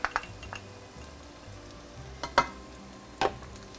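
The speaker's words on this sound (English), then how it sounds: "Give it a nice stir, and then we're gonna cook this down for another few minutes" Green bell peppers and garlic sizzle steadily in a pan for shakshuka, with a few sharp scraping stirs standing out above the quiet, continuous frying hiss.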